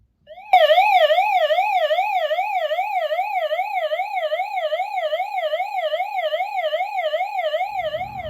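A Nitigo emergency radio sounds its SOS alarm siren, which starts abruptly after a brief click and then wails loudly, rising and falling rapidly and evenly, close to the listener and alone for about eight seconds.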